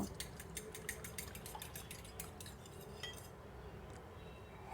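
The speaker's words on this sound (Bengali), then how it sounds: "আর প্রায় দুই টেবিল চামচের মতো আমি দুধ দিয়ে দিব দিয়ে আবার একটু মিক্স করে নিব" A spoon clinks and scrapes quietly against a bowl while chicken nugget mixture is stirred with milk, faint rapid taps that stop near the end.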